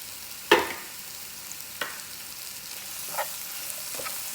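Mushrooms with seasoning and tomato frying in oil in a pan while a coconut chicken dish is cooked: a soft, steady sizzle with a few sharp crackles and stirring clatters, no talking.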